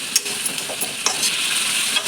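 A spoon stirs a drumstick and potato curry with tomato, garlic and chilli in a pan, giving soft scraping strokes over a steady low sizzle, close and fairly quiet throughout.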